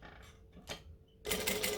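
A sewing machine chain sews fabric pieces, with a couple of soft clicks and taps before a loud, close burst of stitching at the end.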